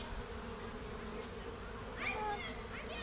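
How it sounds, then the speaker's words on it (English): Honeybees buzz steadily around an opened hive during an apiary inspection, a dense close drone with a few individual bees zipping past near the end. "A lot of buzzing, but it's fine."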